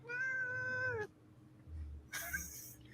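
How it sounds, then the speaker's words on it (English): A house cat lets out one long, clear, drawn-out meow up close, followed by a short pause and then a brief, rougher second cry, with no talking over it. "I don't think I've ever heard that cat make a noise."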